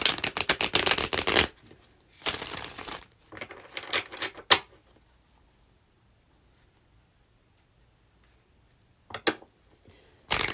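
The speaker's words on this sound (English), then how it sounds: "I screwed up Kristen's shuffle, so I've got to do it again." Tarot cards being riffle-shuffled up close, several crisp rapid rattling bursts separated by pauses, then a long quiet stretch before a few more brief shuffles.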